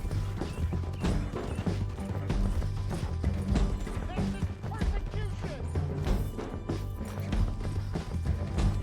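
Horse hooves gallop in Red Dead Redemption 2, a steady clip-clop running under dense game music and effects, with some speech-like sound mixed in throughout.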